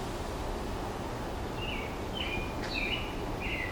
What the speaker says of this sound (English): listening to the sweet little sound of the bird